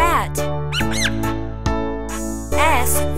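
A rat gives a string of high, sharp squeaks, some bending up and down in pitch, loud and close with short pauses between bursts.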